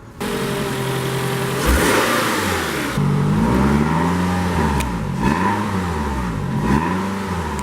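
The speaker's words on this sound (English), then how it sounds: "the exhaust on this car actually sounds pretty fruity for an SUV" A Toyota RAV4 SUV engine revs up and falls back several times in quick swells, the exhaust note rising and dropping, loud and close with no voices.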